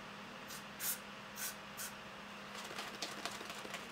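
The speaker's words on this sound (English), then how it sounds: "that's where I spray the sunscreen spray" Several short, close hissing bursts from a sunscreen spray bottle sprayed onto the face, three distinct puffs followed by a rapid flurry of lighter sprays.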